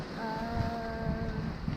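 Wind gusting steadily over a sailboat running downwind on Lake Michigan in roughly 20-knot gusts, a continuous loud rush with faint tonal whistling from the rigging and no pauses across the short stretch.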